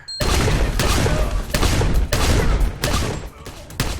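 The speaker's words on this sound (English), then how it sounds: "John has had to adapt his strategy to knocking the guys down with bullets so he can keep reloading and staying alive" Rapid, loud bursts of gunfire fill a John Wick: Chapter 3 - Parabellum action scene, several volleys crashing one after another with brief dips between them and no talk.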